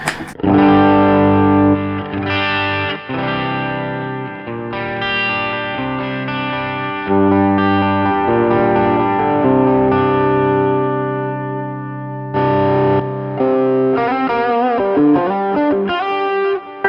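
Distorted electric guitar through a graphic EQ pedal plays sustained chords and melodic lines, loud and saturated with a shimmering, reverberant tone, a brief pause near the end before picking resumes.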